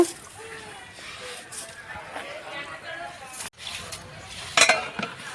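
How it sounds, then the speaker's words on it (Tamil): A spoon scrapes and stirs soaked rice in a cooking pot for mutton biryani over a steady sizzle, with a few sharp clinks of metal near the end. "அரிசி சேர்த்துட்டு நல்லா கலந்து விட்டுட்டு மூடி போட்டுக்கலாம்"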